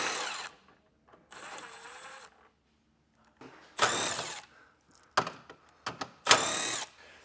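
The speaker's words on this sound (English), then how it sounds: "We'll take a 10mm socket and get these taken out." A socket tool backs 10mm bolts out of the trim on a 2017 GMC Sierra 1500 pickup, giving several short, loud mechanical whirring bursts separated by pauses, with quick clicks near the end.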